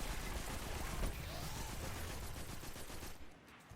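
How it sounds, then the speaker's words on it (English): Auto rifle fire in Destiny 2: rapid, rattling bursts of automatic gunfire, loud and dense at first, then tapering off toward the end, with no talk over it. "then once it's done I use auto rifle"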